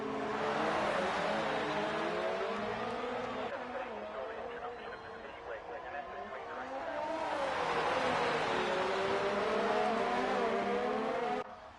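A race car on a hot lap around the Azerbaijan GP street circuit in a sim racing league, engine note rising and falling steadily through gear changes, continuous and fairly loud with no break.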